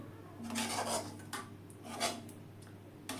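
Spiced tomato sauce with butter and roasted ground spices bubbling in a pan, stirred with scraping strokes of a utensil in several bursts, close and moderately loud, with no voices.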